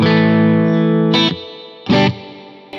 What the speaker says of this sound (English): There was quite a lot of reverb happening.